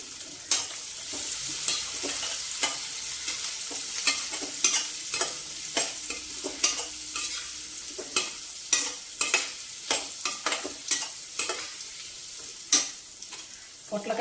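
Onion, curry leaves and green chillies fry in oil while a spoon stirs them, a low continuous sizzle under a long run of regular clicks and taps on the pan, close by with no voices.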